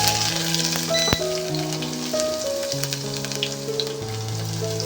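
Chopped garlic and whole cumin fry in hot oil, a steady crackling sizzle heard under sustained musical tones, with one sharp click or tap near the start.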